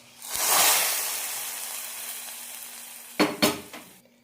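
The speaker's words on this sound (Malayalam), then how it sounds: "ഇനി ഇതിലേക്ക് കടുക് കറിവേപ്പില ഉലുവട്ടിട്ട് താളിക്കാം" Mustard seeds, curry leaves and fenugreek are tempered for ash gourd moru curry. A loud sizzle bursts up close and slowly fades, and a few sharp clanks of a spoon against the pan follow near the end.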